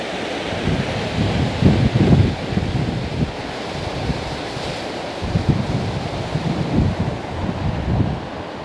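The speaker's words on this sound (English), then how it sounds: "This is where the River Mourne runs out of Kingsmill Reservoir." The River Mourne flowing out of Kingsmill Reservoir makes a continuous low rushing roar with some wind buffeting the microphone, steady and fairly loud for the whole stretch, with no talking.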